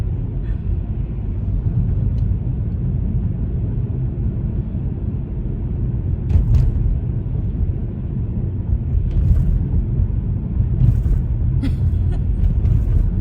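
A truck driving on the road just ahead, heard as a steady, loud low rumble of engine and road noise throughout, with a few faint higher clicks and knocks.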